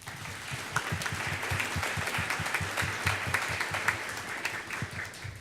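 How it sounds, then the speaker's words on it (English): An audience applauds at a college convocation panel, giving a steady, moderately distant round of clapping that holds evenly throughout, with no voices over it. "Give Dr. Baker a round of applause."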